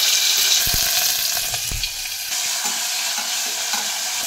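Whole cumin seeds and chopped onion frying in hot oil for pav bhaji give a steady, loud sizzle, broken by a few stirring knocks in the opening seconds.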